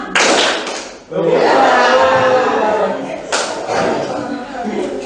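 A group claps along to a call-and-response clap chant in a school training session. Bursts of sharp, close claps come in short patterned sets, with voices chanting and laughing around them.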